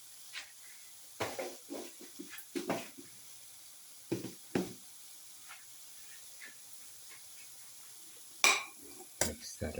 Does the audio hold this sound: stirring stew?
yes